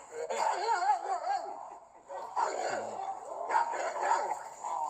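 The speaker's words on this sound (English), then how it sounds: "He got a funny barking." A Majorero cattle dog gives a run of high, yippy, whining barks in several bursts, close and fairly loud, with a brief pause between groups.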